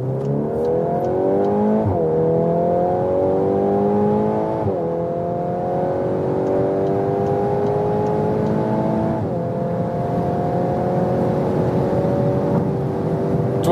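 A Volkswagen Golf R in race mode pulls hard from low speed, engine note climbing steadily through the gears with sharp drops at each upshift, loud and close from inside the cabin.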